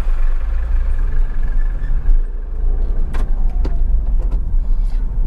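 A car pulls away from a traffic signal during a driving lesson and shifts up through second and third gear; a steady, close engine drone runs throughout, with a few faint clicks and knocks near the middle.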